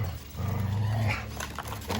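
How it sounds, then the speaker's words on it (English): Dogs growl and bark in short, close bursts over about two seconds, with some whimpering among the vocalizations. "There's some wacko dogs."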